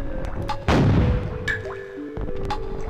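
A cannon in the Donkey Kong 64 video game fires a single loud boom, set among game music tones and small effect sounds.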